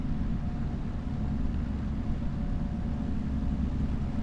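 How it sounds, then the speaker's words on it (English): Tractor engine while driving, a low steady droning rumble with a faint tonal hum, continuous and even, heard alone without talk. "Driving this tractor is really a treat."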